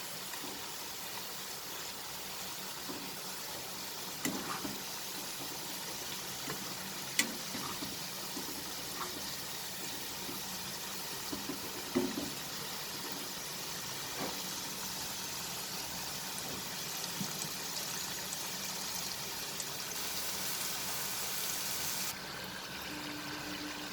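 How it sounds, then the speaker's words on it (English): Potato pieces frying in a pan for chilli potatoes give off a constant hissing sizzle with occasional small pops and crackles, steady and fairly quiet throughout, with no talking. "We'll fry it nicely till it turns nice and brown in color."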